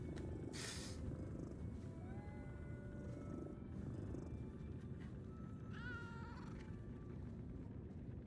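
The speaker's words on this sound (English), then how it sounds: "Oh, there's a cat. There's the cat." A cat in the video game Lies of P, Overture DLC, purrs faintly in a soft, continuous low rumble, with a brief meow-like chirp rising near the end.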